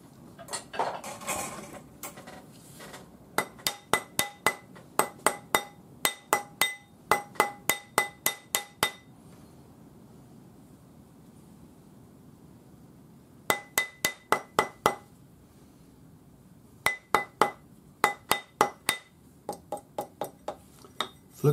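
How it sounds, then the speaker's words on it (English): Rapid bursts of ringing rawhide hammer blows on a metal ring, each strike sharp and bright, in quick runs separated by short pauses. "now I'm going to take my rawhide hammer and hammer it down"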